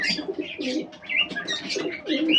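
Pigeons in a loft coo in soft, throaty bursts, several birds overlapping with occasional brighter chirps, close by and steady over the short stretch.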